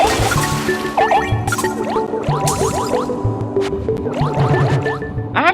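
Water shoots from pipes in the video game New Super Mario Bros. Wii, with bubbly gushing and splashing effects layered over a busy game soundtrack of tones and sliding jingles.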